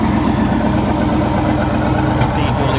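A 1976 Buick Century Custom with dual exhaust idles steadily and close by, a low continuous rumble over a few seconds, with a brief voice or noise near the end.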